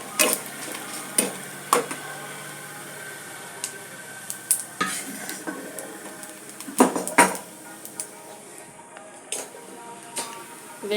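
Ingredients fry in a pan under a low, steady sizzle, broken by frequent sharp clinks and scrapes of a spatula against the metal.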